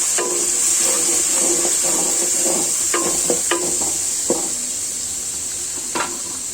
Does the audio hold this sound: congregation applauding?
no